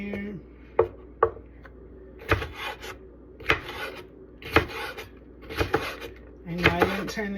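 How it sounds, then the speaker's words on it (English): Vegetables, including onions, chopped roughly on a wooden cutting board: a series of uneven, sharp knife thuds and scraping rasps, close and fairly loud, with a brief voice in the background. "you can hear that I'm chopping"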